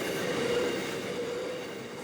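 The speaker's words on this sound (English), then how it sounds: "The train was pulling 28 loaded wheat wagons, and despite Brian's best efforts, it took 700 metres to come to a stop." A freight train hauling 28 loaded wheat wagons brakes hard on a rural Australian line, a steady loud rumble of rolling wagons overlaid by a sustained high metallic wheel squeal.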